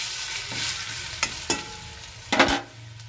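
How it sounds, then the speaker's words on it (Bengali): Radhuni seeds and grated ginger fry in hot oil with a steady close sizzle, broken by a few sharp clinks and scrapes of a spoon stirring the pan. "এইখানে দিলাম এই যে রাঁধুনি আর গ্রেট করা আদা। এবার এটাকে একটু ভাজা ভাজা করে"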